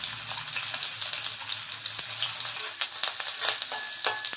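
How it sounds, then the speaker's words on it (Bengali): Chopped onion sizzles steadily in hot oil in a pan, a constant bright frying hiss with small crackles and pops throughout. "এর মধ্যে আমি হাফ পেঁয়াজ কুচিয়ে দিলাম"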